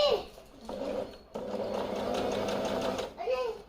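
A Singer Talent 3321 sewing machine runs steadily while stitching a buttonhole, a close, even mechanical whirr lasting a couple of seconds, with brief speech before and after it.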